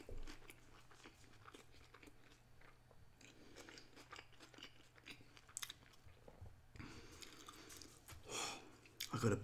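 Someone eats a McDonald's breakfast up close with soft, repeated crunchy bites and wet chewing, quiet and steady, with a few louder bites near the end and no talking.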